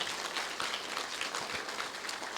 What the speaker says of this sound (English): A round of applause for our elected officials too